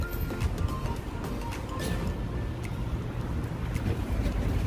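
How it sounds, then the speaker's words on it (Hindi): Wind gusts blowing outdoors at a gas station in Canada, a steady, rough, buffeting rush that stays fairly loud and constant throughout, with no clear voices. "हवा चल रही है।"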